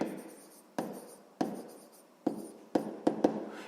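A pen scratches across paper while a math solution is written out, several short strokes with sharp taps between them, close and fairly quiet, with no voices.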